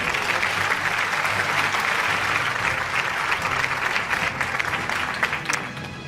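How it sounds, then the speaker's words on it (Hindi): A large audience at an annual award show in a hall applauds steadily, a dense, continuous wash of clapping that holds at an even level throughout. "भरपूर तालियां होनी चाहिए मुकर्रम के लिए"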